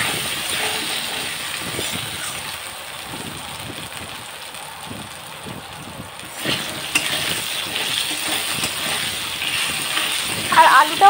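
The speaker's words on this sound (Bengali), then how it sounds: "এবার এটা নেড়ে ছেড়ে ভাজতে থাকবো।" Potato pieces with salt and turmeric stir-fry in a wok, a soft continuous sizzle with scraping stirs, growing louder in the second half, while a person talks over it.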